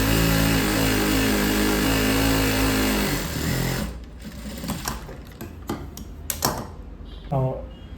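A sewing machine stitching the lining of a chudi runs with a steady, fast mechanical whir for about three seconds, then stops, followed by faint clicks and handling sounds.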